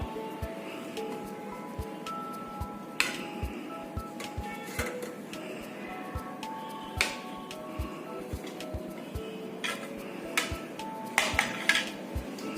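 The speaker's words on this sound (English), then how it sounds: "So now we will take it out from the steamer and unmold them." Steamed cheesy pizza cups in bowls are lifted out of a hot steamer: scattered light clinks and taps of metal and dishware, close and moderately quiet, spread across the whole stretch with a small cluster near the end.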